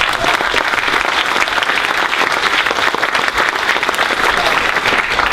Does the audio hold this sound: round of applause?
yes